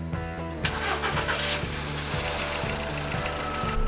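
A Seat Ibiza engine cranks over and catches, a sharp start followed by a steady, rhythmic mid-pitched idle with a faint periodic knock, close and fairly loud throughout.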